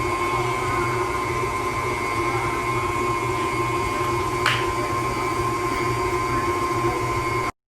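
Electric mixer blending lemon pound cake batter, a loud steady whirring motor hum running close and continuously with a brief click midway before it cuts off.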